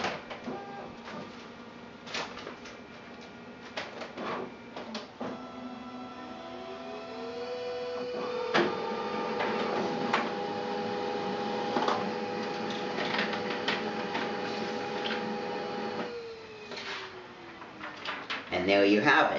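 A copy machine prints copies, with mechanical whirring, a rising motor pitch and a sustained hum, plus clicks and paper-feed clunks over about twenty seconds. Someone talks over the machine noise.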